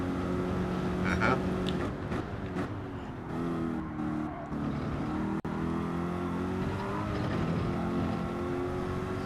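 A Mustang engine in Gran Turismo 7 drones steadily at racing speed, its pitch rising and falling through gear changes, loud and continuous throughout with a brief click partway.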